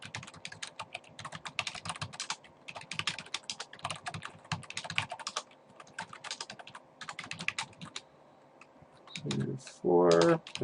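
Someone types on a computer keyboard while configuring a router in a Cisco Packet Tracer networking lab. Irregular bursts of close, crisp keystrokes are separated by short pauses, with a brief tonal sound near the end.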